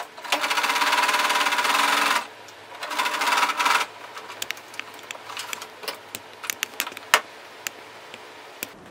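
A sewing machine stitches the dart lines of a back skirt in a fast, close rattling burst, pauses, runs again briefly, then gives way to scattered light clicks and taps.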